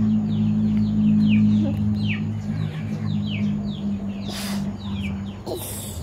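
A pet parakeet gives repeated short chirping calls in quick bursts, moderately close, over a steady low hum and background noise.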